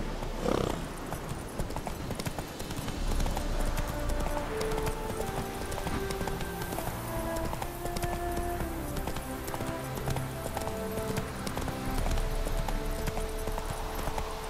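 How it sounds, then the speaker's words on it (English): Horse hooves trot in The Witcher 3 video game, an even, close clip-clop that runs throughout under soft background music tones. "Whoa there, Roach. Slow now."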